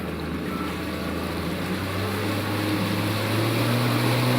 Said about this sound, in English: Now that I've cleared the no wake buoy, I can accelerate. I want to accelerate slowly. Push the throttle forward.